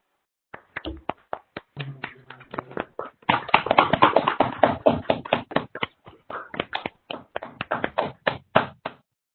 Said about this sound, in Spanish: le regalen un fuerte aplauso para él